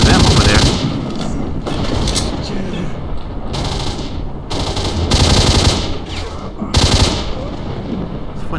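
Bursts of automatic gunfire from a weapon in the video game STALKER: Shadow of Chernobyl, loud and close, with several sustained volleys separated by brief pauses and a constant rumbling backdrop.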